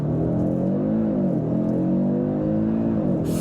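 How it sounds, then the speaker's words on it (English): A 2024 Audi RS3 engine holds high revs for a launch start, a dense, steady growl swelling slightly in pitch, loud and close from inside the car. "pin the throttle, build up the revs for launch, let go of the brake"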